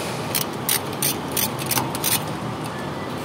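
A ratchet wrench clicks in quick repeated bursts while loosening 17 mm nuts and bolts on the shock absorber and knuckle of a Suzuki Escudo, close up over a constant workshop background noise.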